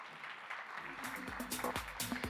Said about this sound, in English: Give a big round of applause to Michelle